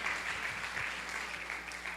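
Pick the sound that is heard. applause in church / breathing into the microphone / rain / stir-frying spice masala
applause in church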